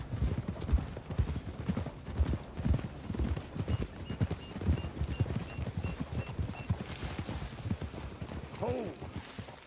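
Horse hooves clip-clop steadily in Red Dead Redemption 2, a rhythmic trot of close, repeated hoof strikes with a brief whinny near the end and talk over parts of it.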